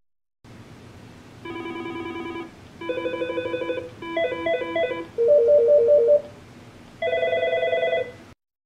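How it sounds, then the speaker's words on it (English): An Aastra desk phone steps through its ringtones one by one: five or six short electronic ring patterns in turn, each a different melodic trill or beeping sequence with brief gaps between, clear and close with no talk. "I'll use the up and down arrow keys to cycle through the different ringtones that are available."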